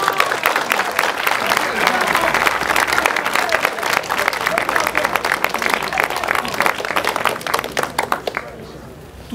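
A church congregation applauds loudly and continuously in sustained dense clapping that fades near the end, with voices mixed in beneath.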